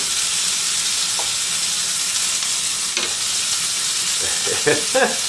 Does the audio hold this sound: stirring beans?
yes